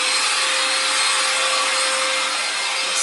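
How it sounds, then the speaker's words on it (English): A handheld Amazon vacuum cleaner runs at close range inside a micro camping pod, a loud steady whine with a faint tonal hum that holds constant throughout and has no talking over it. "It does a great job of vacuuming."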